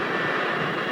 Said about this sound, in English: The engine ignites first try.